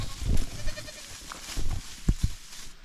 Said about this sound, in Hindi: ये हैं बकरी के छोटे छोटे बच्चे, और बहुत एनर्जी है इनमें